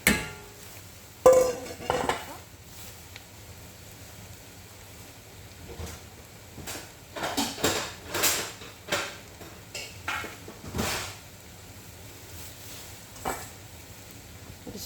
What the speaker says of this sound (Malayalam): പൊടിച്ച് വെച്ച മീൻ അതിലോട്ട് ഇട്ട് കൊടുത്ത് നല്ലതുപോലെ നമുക്ക് ഇളക്കി കൊടുക്കാം